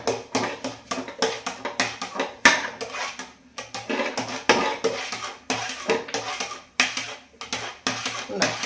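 Dal being stirred into hot jaggery syrup in a pan, giving repeated scraping and clinking of a spoon against the pan in a steady rhythm, close and moderately loud, with faint speech in the background.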